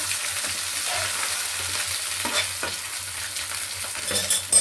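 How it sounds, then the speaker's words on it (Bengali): Onions sizzle in a pan with a little water added, a close, steady frying hiss broken by the scrape and clatter of stirring, for a duck egg curry. "পেঁয়াজটা আমার ভাজা ভাজা হয়ে এসছে, এর মধ্যে আমি একটু জল অ্যাড করব"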